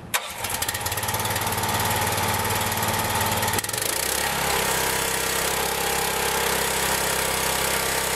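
A MagnaBlast engine-powered blasting system cranks and catches, then runs with a loud, steady engine drone that shifts to a lower, settled idle a few seconds in.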